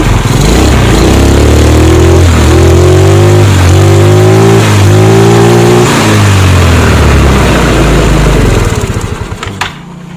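Motorcycle engine fitted with a replacement CDI, running loud and close with repeated rising revs and drops before cutting off at the end.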